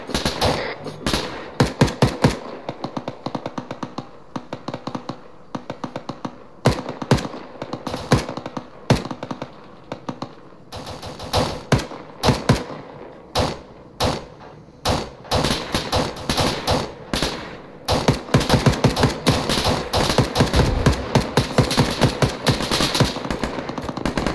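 Sustained Arma 3 firefight as teams open fire at will: dense automatic bursts and single shots crackle continuously for the whole stretch, loud and close, with rapid volleys stacking on each other and brief lulls between.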